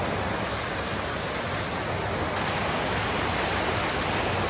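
Karlan waterfall near Abbottabad pouring down steadily, a dense broadband roar of rushing water that stays loud and unbroken throughout with no other sounds on top.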